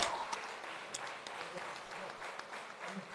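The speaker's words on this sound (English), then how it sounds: "Ladies and gentlemen, let's give a big round of applause to Dr. Kanimozhi NVN Somu" An audience applauds a guest Member of Parliament at a formal event, a steady moderate wash of clapping with scattered louder claps, continuing throughout without speech.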